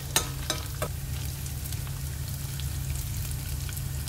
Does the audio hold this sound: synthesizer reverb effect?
no